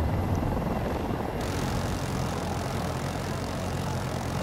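An Mi-240 Super Hind attack helicopter in Battlefield 2042 gives a steady, loud rotor and engine roar that holds evenly throughout, with no talk over it.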